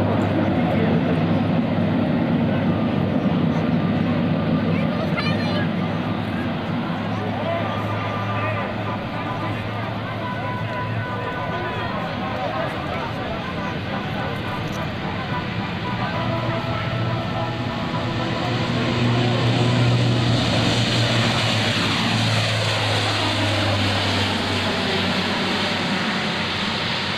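A Lockheed C-130J-30 Hercules propeller aircraft drones loudly and steadily at an air show, its engine pitch shifting slightly as it passes, with a voice talking over the roar.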